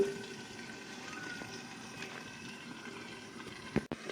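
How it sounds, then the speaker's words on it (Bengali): Desi (country) chicken in a thin curry simmers over a low flame in a covered pot, a soft steady bubbling hiss under faint background noise, with a short louder clatter near the end. "অল্প জালে হালকা করে আমি ঢাকা দিয়ে দিয়ে সেদ্ধ করে নেব"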